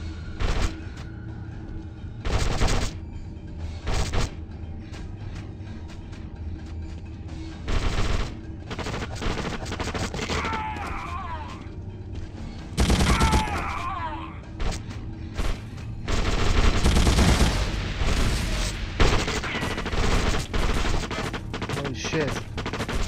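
Gunfire in The Suffering: Ties That Bind comes as scattered loud shots and short automatic bursts amid heavy booms and game noise, with a voice speaking partway through.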